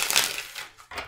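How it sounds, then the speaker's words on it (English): A deck of tarot cards is shuffled in quick riffling bursts, a brisk papery flutter followed by a short pause and a final snap of cards, close and alone. "2 shuffles."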